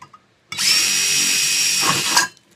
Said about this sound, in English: when you take the drill and place it on the indentation